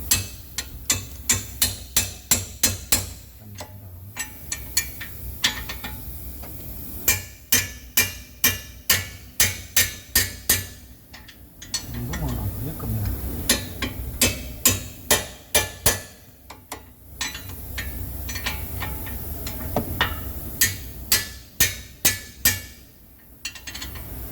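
Repeated metal hammer blows on the brake drum of a Hyundai Avante MD, during a front-left drum replacement, come in fast rhythmic bursts of sharp ringing clanks separated by brief pauses, loud and close.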